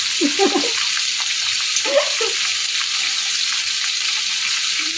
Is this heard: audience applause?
no